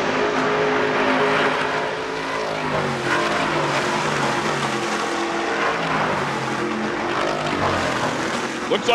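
Racing trucks at the 2023 Long Beach race roar around the street circuit, a dense, continuous engine drone with harmonic whine from several trucks at once, loud and steady beneath a commentator's voice.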